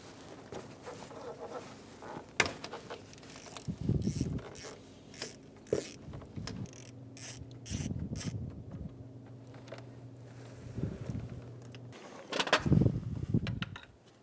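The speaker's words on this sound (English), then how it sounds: "Using a long extension and a deep 12mm socket on a ratchet, we're going to remove the 12mm nut for the bracket bolt on the alternator." A ratchet with a long extension and deep 12mm socket loosens the alternator bracket nut on a 2010-2015 Lexus RX350, producing bursts of quiet clicking and grinding mechanical noise, close but faint, with no talking.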